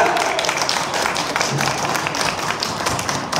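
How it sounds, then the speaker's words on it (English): Audience clapping at a Mister Tourism World Philippines press conference, a dense continuous patter of many hands at moderate loudness, steady throughout with no voices on top. "Clap your hands!"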